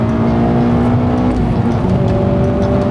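A Mazda 3 MPS engine revs hard after a downshift, a loud, steady, close-up roar with a strong harmonic whine held throughout and no talking.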